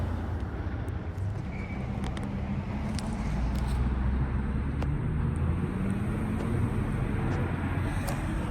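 A 1962 Porsche 356 Notchback idles steadily after being started, giving a constant low mechanical rumble with a faint higher whine. A few light ticks and clicks sound on top throughout.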